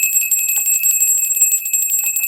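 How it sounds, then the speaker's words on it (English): A bell is rung continuously before a prayer, producing a bright, steady, rapidly repeating metallic ring that stays loud and close throughout with no talking over it. "Ring that bell."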